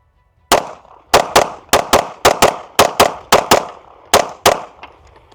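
Eleven sharp shots from an Arma Zeka AZ-P1 Vigil pistol with iron sights, fired at a steady, slightly uneven pace from a low compressed ready, each crack loud and close with a short ringing decay.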